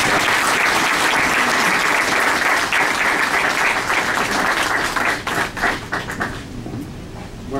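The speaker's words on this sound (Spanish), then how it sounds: "les pido un fuerte aplauso" A courtroom-style lecture audience gives a loud, sustained round of applause welcoming a magistrate, steady and dense for several seconds before breaking into scattered claps and tapering off.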